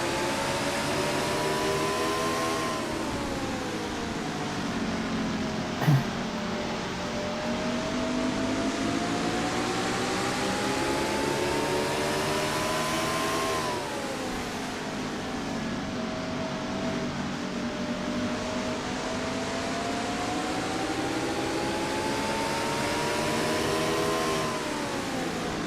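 Race truck engine heard from the onboard view in a racing video game, a steady droning whine that rises and falls in pitch with the laps, continuous and fairly quiet with no talk.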